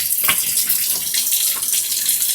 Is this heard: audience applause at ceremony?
no